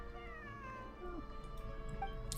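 A video game character gives a soft, cat-like meow, a drawn-out wavering mewing cry that rises and falls over about two seconds, quiet and without talk.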